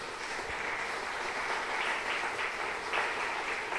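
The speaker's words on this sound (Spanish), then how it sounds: "Aplauda a Cristo si puede." Congregation applauding during a church sermon, a steady, somewhat distant wash of clapping that stays even and fairly faint throughout.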